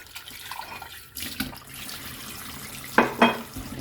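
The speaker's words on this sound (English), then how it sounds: "So I'm going to wash and clean up all of this." Peppers for Jamaican jerk seasoning are rinsed under a running kitchen tap, a soft steady water stream with brief louder splashes and clatter near the end, close by and without talk.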